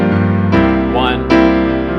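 A sustained chord rings, then shifts to a new chord partway through, with a brief sliding tone and voiced sound in between.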